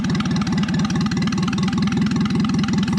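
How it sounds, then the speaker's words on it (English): An old engine running in reverse at about 500 RPM with slight planetary gear noise, a steady close chugging pulse with even rapid firing beats and a faint gear whine above it. "Switching to reverse, around 500, with a little planetary noise."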